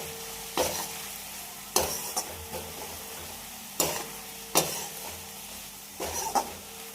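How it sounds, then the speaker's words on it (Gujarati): Spiced okra frying in a pan, seasoned with garam masala, red chilli and turmeric, is stirred with several sharp scraping strokes over a soft continuous sizzle, each stir rising briefly above the crackle. "ગરમ મસાલો, લાલ મરચું, હળદર બરાબર મિક્સ કરી લઈશું"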